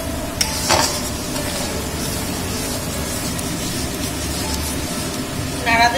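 Onion and garlic fry for palak paneer with a steady low sizzle as a spoon stirs and scrapes the pan. A couple of sharper metallic clinks come near the start and again at the end.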